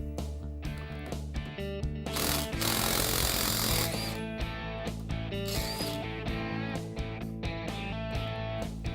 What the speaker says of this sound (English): using a 13/16 socket, let's go ahead and remove the nut in the center